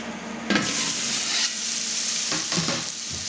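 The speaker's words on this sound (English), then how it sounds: "a bit of rapeseed oil. I'm going to get all our onions in there first." Onions hitting hot rapeseed oil in a pan, a loud close sizzle that jumps up as they land and keeps crackling steadily, with a few scraping stirs toward the end.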